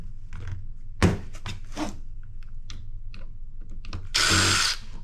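A power driver with a T8 Torx bit backs screws out of hard drives: quiet clicks and knocks of handling, then a short, loud whirring burst near the end.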